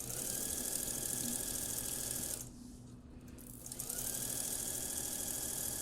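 A domestic sewing machine runs steadily, stitching close along fabric piping on a Western-style blouse with the presser foot pushed snug against it. A continuous close mechanical whir dips briefly mid-stretch, then resumes.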